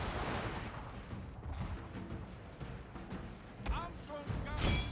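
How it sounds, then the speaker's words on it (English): Cannon and musket gunfire in the Shogun 2 Total War battle of Toba Fushimi rumble and crack in a dense, continuous barrage, with heavier booms near the end. "Also got some cannon fire coming over here."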